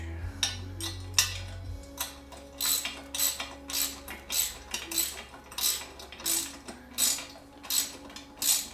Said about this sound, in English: Use the wrench.